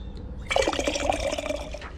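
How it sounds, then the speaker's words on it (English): Water pours into a pot on an off-grid homestead kitchen while making a berry pie filling, a steady splashing gush lasting under two seconds, close and clear with no talk. "So we're going to go ahead and measure up the 7 cups of water"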